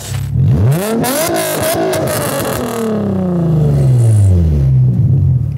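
A Nissan 350Z engine revs hard and climbs in pitch as the sports car pulls away, then settles into a steady, loud drone near the microphone with no talking.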